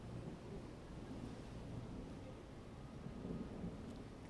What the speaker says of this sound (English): I don't know if you can hear the thunder.